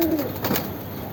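Tournament racing pigeons coo softly nearby, low throaty murmurs over a steady background hiss, with no talking.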